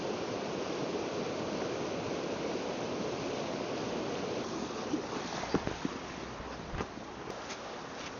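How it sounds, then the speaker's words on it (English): A river rushes loudly around someone standing in the middle of it at a riverside camp, a steady broadband roar that holds throughout, with a few brief knocks and splashes near the end. "The water is so loud, I can just about hear myself talk. I love listening to it flow down the river."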